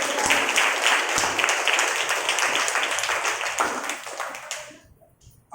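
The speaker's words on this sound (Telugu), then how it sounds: "అర్థమైన వాళ్ళు చప్పట్లు కొట్టారు" A church congregation claps together in a brisk, sustained burst of applause that fades out near the end, leaving near silence.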